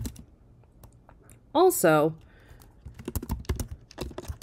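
Computer keyboard typing, with sparse clicks at first and then a dense run of quick keystrokes, close by, broken by a short spoken word.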